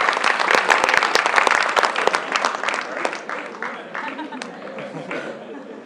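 Audience applause at an asset allocation talk, sharp individual claps over a crowd's clapping that starts strong and gradually thins out, with some chatter and a chuckle mixed in.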